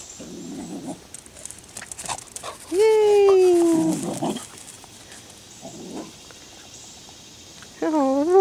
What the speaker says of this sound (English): Look at that puppy, Ray Ray.